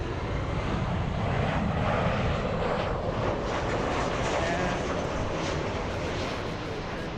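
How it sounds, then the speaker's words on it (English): A fixed-wing airliner taxis toward the runway at Los Angeles International Airport, its jet engines producing a steady, loud, even roar that holds without a break. "We have the big Captain Ken Mobile taxiing to the runway"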